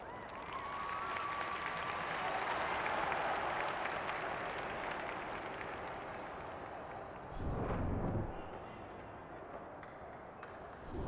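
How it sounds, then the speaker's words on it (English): A large stadium crowd at an Australian rules football preseason match roars and applauds continuously in a big open space, a steady wash of noise that swells briefly louder toward the end. "The crowd already making plenty of noise"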